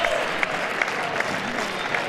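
Spectators at a Hexagon Cup match keep up dense, even applause after a point, a steady wash of clapping with a few sharper individual claps standing out.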